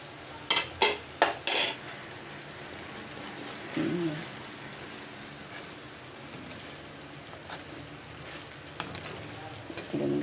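Liver sizzles in a frying pan with carrots, a steady crackling fry with a few sharp clatters of utensils early on and an occasional soft voice underneath.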